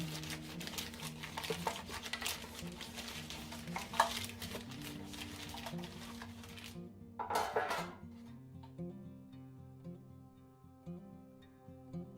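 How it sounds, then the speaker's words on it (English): Metal baking pans for banana bread are handled in a kitchen, clinking and scraping with a rustle of crinkling paper, fairly quiet and intermittent over soft background music. "We'll get our pans ready."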